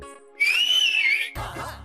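One person whistles a single sustained, wavering high note at close range. A brief noisy shuffle follows, with faint background voices and tones before it.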